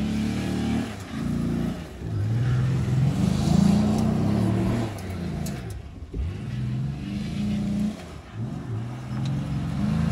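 An old Chevy Impala former police car drives around a dirt track, its mid-range engine droning steadily and rising and falling as it revs and accelerates, loud and close with no voices.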